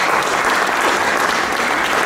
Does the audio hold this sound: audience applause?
yes